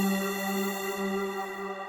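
A sustained ambient synth lead tone in a beat, rich in harmonics, holds steady and close before slowly fading.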